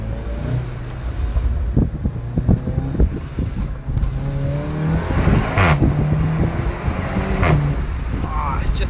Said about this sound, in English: that intake noise actually sounds really nice.